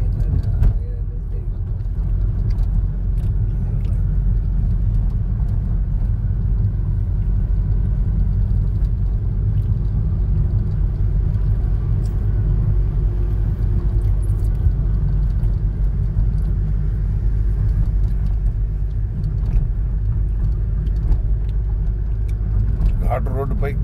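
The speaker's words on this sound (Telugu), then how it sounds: "ఘాటు రోడ్డుపై వాహనాలు ఎలా శ్రేణిలో వెళ్తున్నాయో మనం గమనిస్తున్నాం." Vehicles moving in a line along a ghat road at night give a steady, loud low engine rumble and road drone that carries on without a break and without talking.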